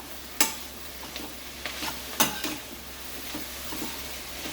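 Diced potatoes being sautéed and stirred in a pan for a Saraswat-style dry curry: a soft background sizzle punctuated by several sharp spoon-on-pan scrapes and clicks at irregular intervals.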